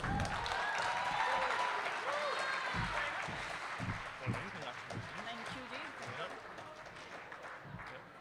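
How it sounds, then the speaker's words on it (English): A student election results crowd applauds a newly elected officer, a sustained wash of clapping with cheering voices that gradually thins over eight seconds, with chatter mixed in. "Guys, give her another round of applause,"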